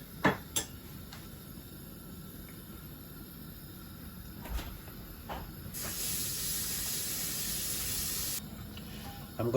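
Vegetable oil and ghee heating in a wok give a steady, faint sizzling hiss throughout, broadening into a louder spitting burst in the middle before settling back, with a few light clicks.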